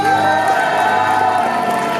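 A crowd at a cosplay parade in Saintes cheers and claps for a Star Wars officer costume, loud and sustained whooping and shouting from many people close by, with a bright tonal hum running underneath.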